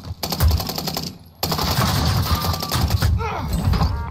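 Video game gunfire rattles in rapid automatic bursts at close range, breaking off briefly before resuming with mechanical clanks and whirring layered in.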